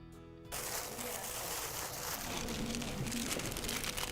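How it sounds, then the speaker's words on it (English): Plastic wrap bags filled with sweets rustle and crinkle in a continuous, close, dry texture after a short quiet start. "Hearing the sound of rustling plastic wrap makes you feel there's something sweet inside these hand-picked bags."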